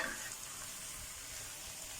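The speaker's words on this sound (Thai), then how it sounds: "พอไก่เริ่มสุกละ ก็ใส่หน่อไม้ลงไปผัด" Steady sizzling and frying of chicken and boiled bamboo shoots in a hot pan without oil, with faint stirring scrapes, continuous and moderately quiet with no voices.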